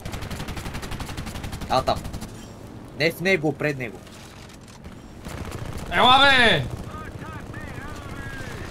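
Rapid bursts of video game gunfire from an army game aimed at an aircraft, crackling over steady background noise while players talk excitedly nearby.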